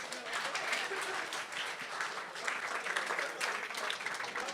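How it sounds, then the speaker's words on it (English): Bitcoin summit audience giving a round of applause, fairly quiet and distant sustained clapping from many hands with individual claps popping through, no talking. "Let's give a round of applause, please."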